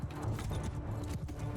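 Cavalry horses moving across a battlefield in the video game Mount & Blade II: Bannerlord, a steady dense clatter of hooves over a busy low rumble, loud and continuous throughout.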